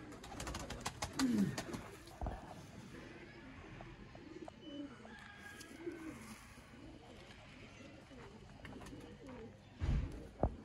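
Sialkoti pigeons coo softly at low level in a quiet loft-like setting, with a few brief louder calls near the start and end and faint background activity.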